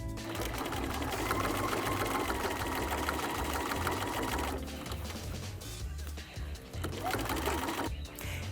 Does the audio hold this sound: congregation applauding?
no